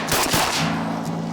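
Shotgun blasts fired at teal ducks during a Louisiana hunt in foggy weather near Lake Charles, a quick burst of two or three loud overlapping shots followed by a lingering echo and low hum.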